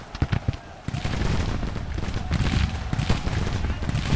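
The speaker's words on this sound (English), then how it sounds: "We are under artillery fire" Cannon and musket fire in Grand Tactician: The Civil War, with loud booms and crackling volleys overlapping at close range over a steady battle din.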